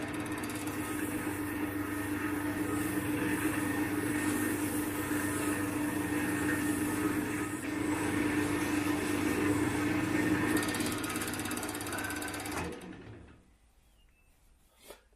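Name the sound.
lathe spinning acrylic pen blank at slow speed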